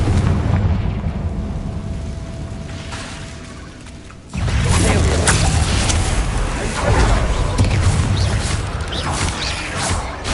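A Confringo blasting spell goes off in the Hogwarts Legacy video game, a sudden loud explosive burst after a quieter stretch, followed by a rumbling, crackling roar that stays dense and full for several seconds.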